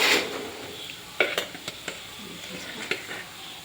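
Egg fry curry being stirred in a pan, a few sharp scraping clinks of a spoon against the metal scattered over a faint sizzle in a quiet kitchen.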